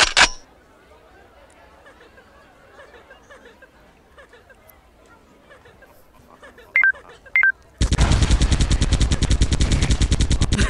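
Rapid gunfire in a circus clown zombie shooter game on a mobile device, a loud fast burst of repeated shots at the end, following a quiet stretch with a few short beeps.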